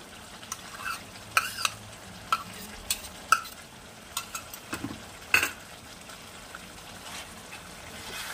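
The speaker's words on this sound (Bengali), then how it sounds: "দিয়ে আবার নাড়াচাড়া করে রান্না করে নেব।" Chicken being stirred with a paste of roasted, ground capsicum in a pan, quiet sizzling broken by repeated scraping and tapping strokes of a spoon, no voices.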